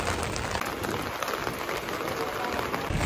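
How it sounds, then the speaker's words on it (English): Rain falling in Tokyo, a dense steady hiss of drops on surfaces, close and continuous with no talk. "And it's raining!"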